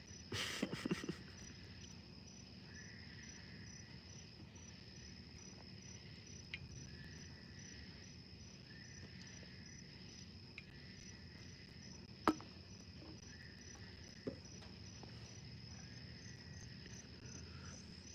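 Crickets chirp outside at night in a steady, faint, high pulsing trill with regular bursts, broken by a few soft knocks and ticks.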